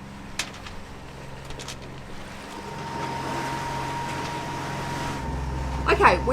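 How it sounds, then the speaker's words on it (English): A sailboat's engine drones low and steady while motor sailing on the open ocean, mixed with wind and water wash against the hull, with a brief louder splash near the end. "we've had to turn an engine back on"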